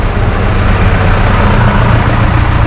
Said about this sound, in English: These are the steam engines.